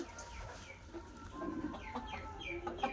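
Month-old poultry chicks on a farm peep and cheep in quick, overlapping high calls with soft clucks, a busy moderate flock chorus against low background noise.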